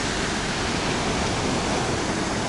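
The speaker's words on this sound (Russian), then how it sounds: "Посмотрите, какие волны." Stormy sea waves surge and crash on the shore at Alanya during rain, a dense continuous roar filling the air with no break and no voices.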